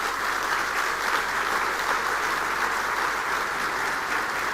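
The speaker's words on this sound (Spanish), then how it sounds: "Yo les quiero pedir un aplauso para ellos que hoy están acompañando." Dense, sustained applause from a large audience at a government luncheon, honoring coalition government ministers in attendance, an even wall of clapping with no pauses.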